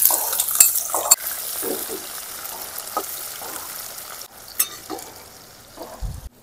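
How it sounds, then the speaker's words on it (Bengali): Chopped onions fry in a pan for a mutton curry, a soft steady sizzle broken by scraping stirs and clinks of a spatula against the pan. "পেঁয়াজটা আমরা জাস্ট ভাজতে দিয়ে দিয়েছি"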